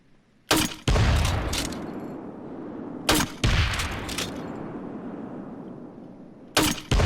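China Lake 40mm pump-action grenade launcher in Payday 2 firing three rounds, each a sharp loud boom followed by a rumbling explosion tail, spaced a few seconds apart with no talk.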